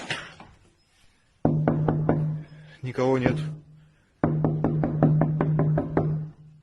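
Knocking on a window at night, in two bursts of several sharp, evenly spaced raps, loud and close, with someone speaking briefly before and between them.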